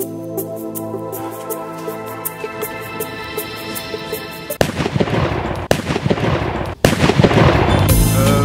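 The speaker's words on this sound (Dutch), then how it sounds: "We zijn nog niet echt klaar met het vuurwerk." Fireworks set off at home in the Netherlands go off in a dense barrage of loud, near bangs and crackles after a stretch of steady music, with a few sharp drops between bursts and sustained noise to the end.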